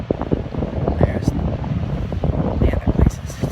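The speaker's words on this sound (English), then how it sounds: "It's quite windy today." Gusts of wind buffet a microphone outdoors in Florence near the Duomo, producing a low, rumbling, fluttering roar that rises and falls in uneven bursts, with a voice faintly mixed in.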